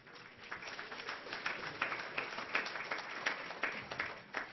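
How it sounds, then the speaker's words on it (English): An audience applauds at a talk, a steady, moderately loud patter of many hands clapping together that holds evenly for a few seconds with no voices over it. "Now, you applaud."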